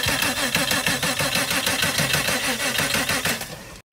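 A Fiat 500 Prima Edizione starter motor cranks the engine steadily with the fuel pump fuse pulled, a loud, fast, even chugging that runs without a break for almost four seconds and then cuts off abruptly.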